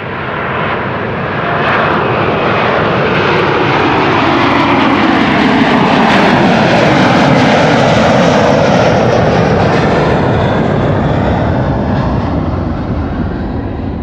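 A widebody jet airliner departs Amsterdam Schiphol Airport, its engines roaring loud and steady for the whole stretch, with the broad rumble swelling and then slowly shifting as the aircraft climbs away.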